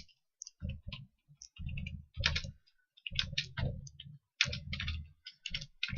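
Computer keyboard keys clicking in short uneven bursts, close and fairly loud, with brief pauses between clusters of keystrokes while coding an array in a 2D level project.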